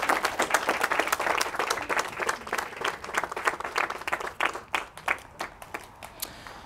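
Applause from a gathered crowd at a quinceañera ceremony, a steady dense patter of many hands clapping that thins toward the end into scattered separate claps.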